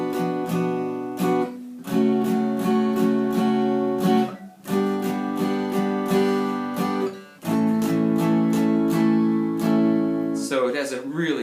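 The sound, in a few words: guitar playing straight minor and major chords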